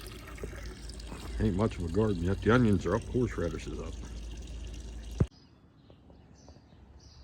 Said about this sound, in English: barrel I got some goldfish in with a water pump,